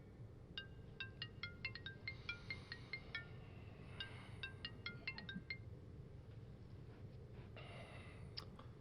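A phone rings with an incoming call, its tone repeating in short bursts of bright chiming notes. The sound is faint, with quiet breathing and room noise behind it.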